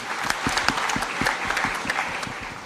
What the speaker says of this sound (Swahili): Tumpigie huyu mungwana makofi jameni.